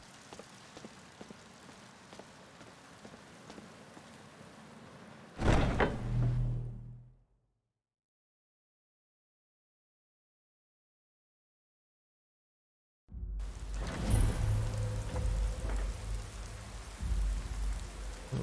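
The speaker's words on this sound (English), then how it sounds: "It sounds like it's raining out." Steady rain falling outdoors in the video game Skyrim, a soft constant patter, broken by a louder door-like thud and a stretch of complete silence before the rain returns.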